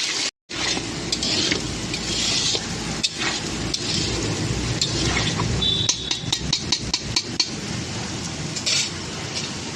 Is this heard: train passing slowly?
no